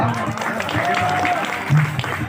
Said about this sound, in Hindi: तालियों से नवाजें।